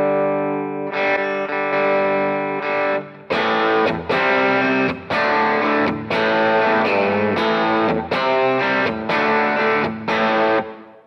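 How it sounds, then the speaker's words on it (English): Electric guitar on the bridge pickup of a Vox Bobcat reissue with hot Strat-style pickups, played through heavy high-gain distortion: loud sustained chords in a choppy riff with short breaks between strummed phrases. "Let's see what that bridge pickup sounds like if I gain it up more"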